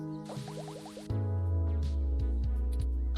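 Water machine in the video game 2064: Read Only Memories dispenses a drink: a few bright plopping drips, then a steady filling gush over a low mechanical hum, loud and close, with no talking.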